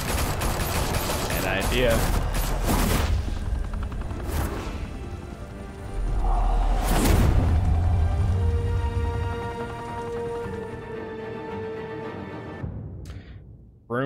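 Gunfire bursts in the Batman: The Telltale Series video game, several loud crackling volleys clustered early and again mid-scene, followed by a short rumble and a sudden cutoff, with voices speaking over it.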